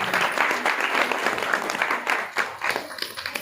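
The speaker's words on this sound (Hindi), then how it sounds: "इनके लिए जोरदार तालियां" A crowd claps loudly at a village Bhagavat Katha gathering, a brief burst of dense applause that fades into scattered claps toward the end.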